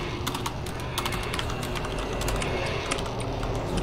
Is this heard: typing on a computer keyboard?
yes